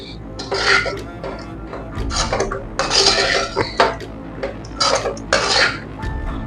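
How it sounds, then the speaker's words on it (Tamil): A spoon scrapes and clatters in a metal pan while stirring murungai keerai rice with peanut powder, the stove switched off. The strokes come in close, loud, irregular bursts with brief pauses between them. "இந்த மாதிரி ஒத்தாப்புல நல்லா கிளறி விட்டுருங்க"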